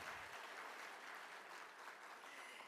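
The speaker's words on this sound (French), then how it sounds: "Merci d'être là et merci de vous applaudir," Audience applause at the opening ceremony of a conference at the Hôtel 2 Février in Lomé, a soft, distant, even patter of clapping that keeps going.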